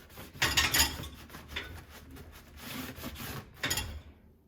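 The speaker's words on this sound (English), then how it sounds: "I'm going to take my little scrub brush. I'm going to get in there and I'm going to scrub at that space." A scrub brush with dish soap and water scours inside a dishwasher in a kitchen, producing close, gritty scraping strokes in uneven bursts that rise and fade, with no talking.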